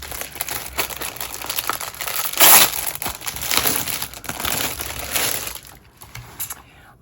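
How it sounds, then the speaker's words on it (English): Bubble wrap crinkles and crackles while Hobonichi planners are unwrapped, a busy stream of close, uneven rustling with a louder burst midway before it fades near the end. "There's going to be some crinkling sounds"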